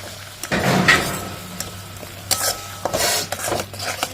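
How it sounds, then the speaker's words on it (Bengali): Spice paste being stir-fried in a pan for a dish of bottle gourd and pea-lentil fritters, with a few loud scraping stirs and bursts of sizzling between quieter pauses. "এটাকে এখন কষবো, কষতে কষতে তেল বেরোবে"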